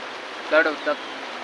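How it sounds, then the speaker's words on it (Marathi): River water flows at a village riverside in the evening, a steady soft wash of noise running throughout, with a brief burst of a person's voice near the middle. "नदीचा पाण्याच प्रेशर दाख"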